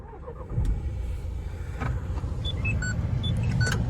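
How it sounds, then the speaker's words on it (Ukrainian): A 2015 Renault Espace engine cranks and catches, then settles into a steady low idle rumble, with a few short electronic chimes near the end. "Ще раз заведемо автомобіль."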